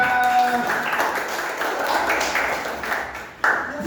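A classroom of students claps together in a lively round of applause, with chatter and voices mixed into the steady clapping and a brief sharp knock near the end.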